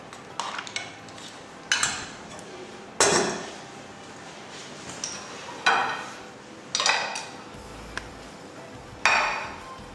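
Utensils scraping and clinking on a plate as vegetables are dished out beside chickpea sauce and brown rice, with about eight sharp metallic knocks spaced a second or so apart, each fading quickly, close and fairly loud.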